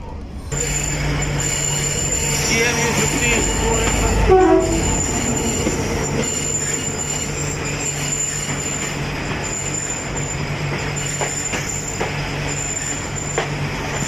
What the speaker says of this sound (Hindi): ट्रेन इस वक्त अप्रोच कर रही है हैदराबाद जंक्शन रेलवे स्टेशन पर